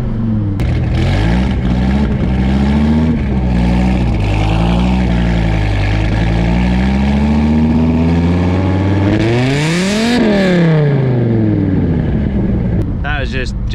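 A 1999 Hennessey Viper ACR race car engine drones loud and close from inside the cabin, pitch climbing through the gears and peaking in a hard rev before dropping off, with a voice talking over it.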